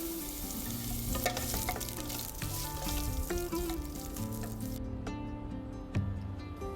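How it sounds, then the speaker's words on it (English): Chopped garlic sizzles in hot oil with cumin seeds over a medium flame, a steady crackling fry with small pops and occasional stirring clinks throughout, close and unbroken, with no voices. "Let's just let the garlic sit in the oil on medium flame till it's slightly golden"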